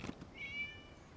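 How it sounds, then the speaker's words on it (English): A single short cat meow from the game Genshin Impact rises and fades over a faint ambient bed. It is brief, moderately clear and has no talk over it. "It was just a cat."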